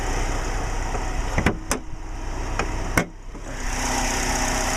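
A 2012 Chevy Malibu LT with a 2.4-liter Ecotec four-cylinder idles in a steady low hum, with a few sharp clicks or taps over the running engine.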